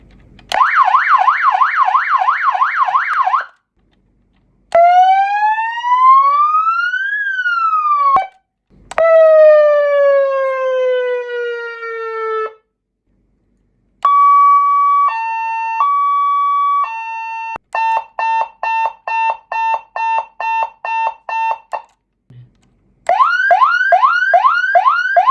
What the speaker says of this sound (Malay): Okay, kita test siren pula.